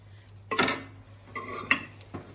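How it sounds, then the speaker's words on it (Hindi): A spoon stirs boiled white rice in a pot, giving a few soft scraping clinks against the metal in separate short bursts, fairly quiet and close. "अब हम इसमें आराम से चम्मच हिलाएंगे।"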